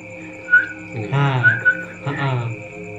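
Eerie whistle-like tones recorded in space hold steady over a humming drone, with a couple of rising, swelling bursts in between; no voices.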